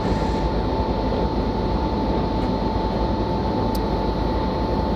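A BR 189 multisystem electric locomotive running in Train Simulator Classic, a loud, steady rumbling drone with a constant high whine, unbroken for the whole stretch.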